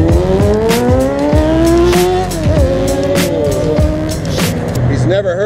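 A Mercedes-Benz car with no muffler roars loudly nearby on a city street, its raw engine note climbing and dipping as it revs and pulls away.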